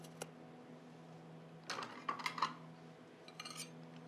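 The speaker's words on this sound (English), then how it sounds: "And then run a spatula under it." Spatula scraping and clinking against a plate while slicing under and lifting a no-bake peanut butter cheesecake, a few short close scrapes and taps over a quiet steady hum, with no voices.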